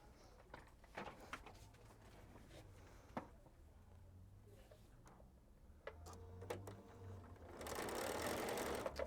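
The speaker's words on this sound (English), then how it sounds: "I'm going to sew, and I'll be right back." A sewing machine stitches a quilt block in quiet bursts of rapid ticking, with pauses, small handling clicks and a louder stretch of stitching at the end.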